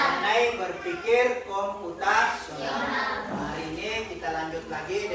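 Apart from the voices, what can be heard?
No distinct noise like a dog, phone or traffic.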